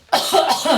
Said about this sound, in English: I just need a cough, sorry.